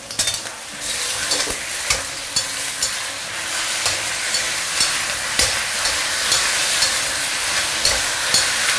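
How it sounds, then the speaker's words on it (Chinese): Chicken stir-fries over medium heat in caramelized sugar in a wok. A loud, continuous sizzle runs throughout, punctuated by regular sharp clicks and scrapes of the spatula. "接下来下入鸡，开中火，慢慢去煸一下鸡，生煸的方式啊"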